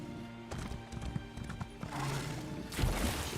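Video game hooves clip-clop in an uneven rhythm at moderate volume, followed by a louder galloping rush and a horse's snort or whinny.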